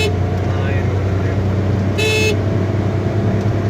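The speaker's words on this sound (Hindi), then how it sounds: "अभी ये 4th गियर लगा है और 100 को क्रॉस की है" A Suzuki WagonR cruising in fourth gear above 100 km/h gives a steady, loud road and engine drone throughout, with a brief horn toot midway and voices talking over it.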